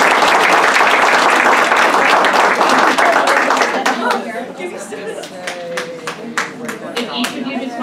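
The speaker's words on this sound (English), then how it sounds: "Let's give a big round of applause." Audience applause for high school students at a school board of education meeting, loud steady clapping from a room of people that thins out midway into scattered claps and background chatter.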